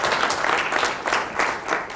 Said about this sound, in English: So may you please have a round of applause for her